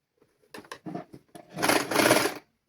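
A sewing machine stitches a child's sleeveless dress, with a few short clicks and stops at first and then a loud, continuous whir of stitching for about a second before it halts.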